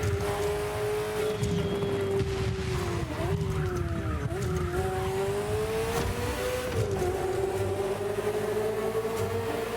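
A Ferrari F40 in The Crew Motorfest racing game roars steadily at high revs, its tone sliding up and down through gear shifts, with tires squealing and skidding, loud and continuous throughout.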